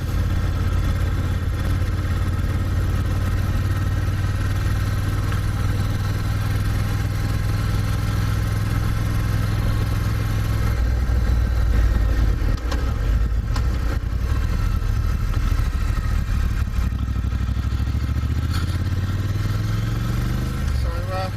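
Triumph Thruxton R motorcycle engine on a test ride with throttle spacers fitted, a steady loud drone under rushing wind noise, the pitch dropping toward the end as the bike slows.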